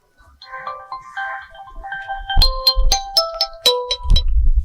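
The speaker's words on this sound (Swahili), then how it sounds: "Pokea hiyo simu tutafute hiyo amani" A mobile phone ringtone plays loud and close, a melodic tone that builds into a series of sharp, bright repeated chimes, heard alone with no one talking.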